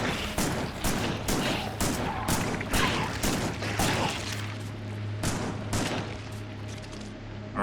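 Rapid volleys of shotgun blasts in the video game Factorio, sharp close bursts repeating in quick uneven succession over a low steady hum, with no speech.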